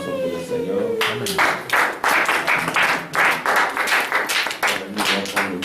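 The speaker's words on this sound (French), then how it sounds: "Acclamation pour le Seigneur" A church congregation breaks into rhythmic applause in praise of the Lord, a loud run of pulsing, evenly beaten clapping right after a voice trails off at the start.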